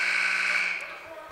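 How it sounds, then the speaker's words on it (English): A long, loud electronic buzzer blares across a girls' varsity high school basketball game, holding steady for most of a second before fading into the gym's background murmur. "That's the buzzer."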